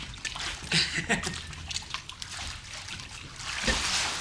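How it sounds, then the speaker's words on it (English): Water trickles and dribbles down into a pair of waders, a close, soft gurgling with small splashes and drips that grows fuller toward the end. "A little more water going down in there again"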